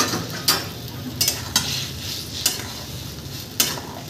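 Curry being stirred in a pan as a mustard and poppy seed paste goes in, with a soft steady sizzle and a handful of sharp spoon scrapes against the pan at irregular intervals.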